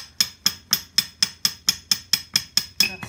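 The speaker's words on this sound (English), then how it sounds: "I'm just putting a little bit of pressure on this opposite side, just with my hand. I'm not hammering it very hard." A diff side shaft being tapped loose with a hammer gives about a dozen light, evenly spaced metallic taps with a slight ring, close and fairly quiet, with no talking.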